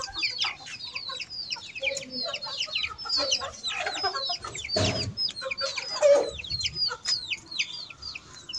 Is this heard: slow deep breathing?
no